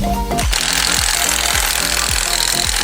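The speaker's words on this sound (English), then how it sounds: "Torquing down the lugs, safety first." A power tool, most likely an impact wrench, torques down the lug nuts on a BMW's wheels during a flood-salvage rebuild. It gives a loud, steady hammering rattle with regular pulses after a short spin-up, and nothing else is heard.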